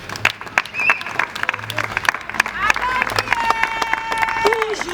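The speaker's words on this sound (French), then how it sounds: "Si vous pouvez acclamer pour eux." Guests at a religious wedding ceremony applaud the newly presented couple, with scattered, uneven clapping building in density, mixed with crowd voices and some tonal music.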